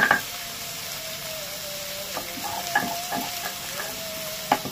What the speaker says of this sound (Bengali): এখনো আলু পটল ভাজা চলছে, যেহেতু পুরো লাল করে ভেজে নেব, এখনো ভাজা চলছে